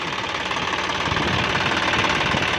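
A John Deere 5065E tractor with a three-cylinder turbo engine runs close by with a loud, steady, gritty clatter and no change in rhythm, and nobody speaks.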